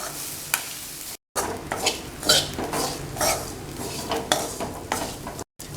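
Grated coconut sautéed in a pan for squid gravy, with a steady sizzle under repeated spoon scrapes and clinks against the pan, close and fairly loud.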